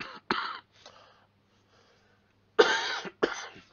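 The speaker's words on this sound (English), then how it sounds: "You'll have to forgive the coughing." A man coughs in a burst of two harsh coughs, then after a quiet pause two more loud, close coughs follow, with no talk in between.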